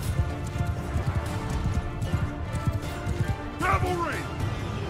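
Horses galloping in a Mount & Blade 2: Bannerlord battle make a steady clip-clop of hooves over busy battle noise, and a neigh rises near the end.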